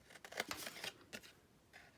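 Scissors snip through paper in a few quick bursts, cutting the corners of a small square of sticky notes while notching the edges, with short crisp cuts close by and a quieter snip near the end.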